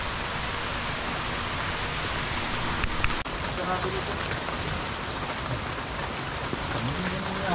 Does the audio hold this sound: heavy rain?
yes